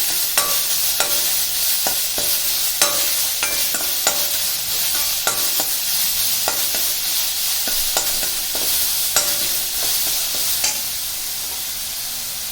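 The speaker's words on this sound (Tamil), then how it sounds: "இப்போ இந்த நெல்லிக்காயும் போட்டு கலருவோம்." Amla gooseberries are sautéed and stirred in a hot pan, with a continuous sizzle of frying broken by regular sharp scrapes and clinks of the spoon against the pan, close and fairly loud, with no talk.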